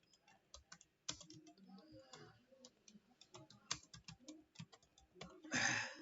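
Text being typed on a computer keyboard in CorelDraw: irregular quick key clicks, close and fairly quiet, ending in a brief burst of faster keystrokes.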